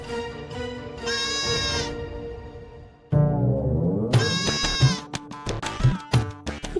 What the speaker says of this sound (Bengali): তো আবার ছাগল ডাকছে